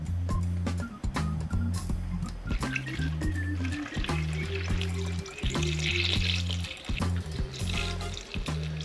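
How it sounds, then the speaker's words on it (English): Water pours and gurgles steadily into a 1995 BMW E36 radiator, with a constant rushing flow and bubbling as air escapes, alongside a low rhythmic engine-like hum. "So I'm gonna fill it up until no more bubbles come out this little hole right here."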